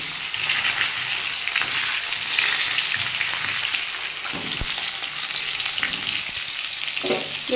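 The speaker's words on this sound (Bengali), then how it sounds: "নিয়ে আমি এবার এর মধ্যে আলু টমেটো পেঁয়াজ সব একসাথে দিয়ে ভেজে নেবো একটু" Potatoes, tomatoes and onions fry together in hot oil with a steady, loud sizzle, broken by a few knocks of a stirring utensil against the pan.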